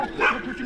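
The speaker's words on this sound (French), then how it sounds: "Oh, j'aperçois un chien." A loose, unleashed dog gives a single short bark at close range, followed by a faint whimpering tail against a quiet outdoor background.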